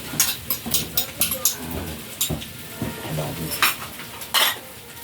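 Metal utensil scraping and clinking against a pan while stirring chicken adobo with egg, in quick irregular strokes over a faint sizzle.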